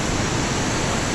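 Waterfall in Da Lat, Vietnam, a dense, even rush of falling water heard close and alone for a short moment.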